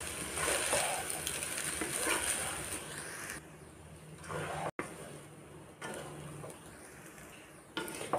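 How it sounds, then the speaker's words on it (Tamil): Vegetable fried rice stirred in a pan over a high flame, with soft scraping and light clattering that comes and goes in uneven strokes, fairly faint against a steady background hiss. "பொறுமையாக அரிசி உடையாமல் தீயை நல்லா அதிகமாக வச்சு கலந்து விடுங்க"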